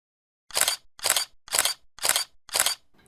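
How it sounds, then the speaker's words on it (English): A camera shooting a sequential burst with the shutter button held down fires five crisp, evenly spaced mechanical shutter clicks about half a second apart, close and clear in an otherwise quiet room. "you can hold the shutter button down"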